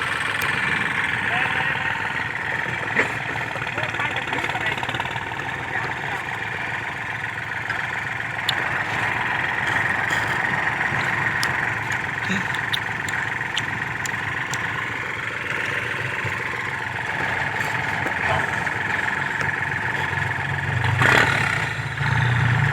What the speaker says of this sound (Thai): ชมรถไถเสือตองครับ 36 แรงเทอร์โบครับ